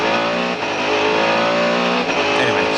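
A Mercedes CLR race car engine at Le Mans, heard from onboard as the car pounds down the back section of the circuit, roaring loudly and steadily with a dense harmonic whine that rises and dips slightly as it holds speed.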